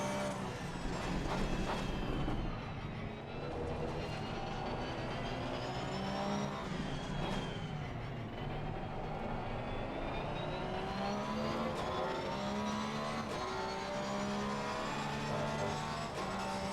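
BMW race car in the sim racing game Assetto Corsa Competizione, a loud, continuous engine roar with rising and falling revs as cars run close together, with no talk.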